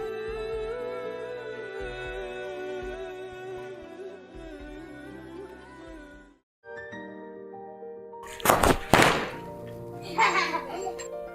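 Diwali firecrackers bursting outdoors: a few sharp, loud bangs and crackles in quick succession after festive music cuts out, followed by scattered smaller pops.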